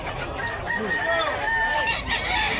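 A bullstag rooster with white legs crows at a chicken sale in Talisay, Tabunok, a clear drawn-out call rising over steady crowd murmur and other birds.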